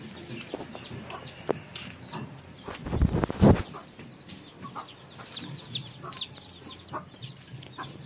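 Hens and small chicks cluck and cheep softly on a farm, scattered calls spread throughout, with a brief louder burst of flapping or scuffling in the middle.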